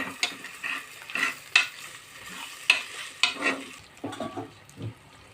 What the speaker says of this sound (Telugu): ఇప్పుడైతే అల్లం తెల్లుల్లి పేస్ట్ కొద్దిగా వేసుకొని బాగా కలుపుకోవాలి